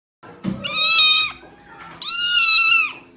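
A human voice imitates a cat's meow twice, saying the Greek letter mu as two drawn-out, nasal meows with a short pause between them, close and fairly loud.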